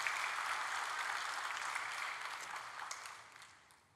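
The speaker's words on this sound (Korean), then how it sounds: "우리 격려하는 박수 해주시면 감사하겠습니다" A church congregation claps in encouragement during a worship service, a broad steady wash of many hands at moderate distance that slowly thins and fades toward the end.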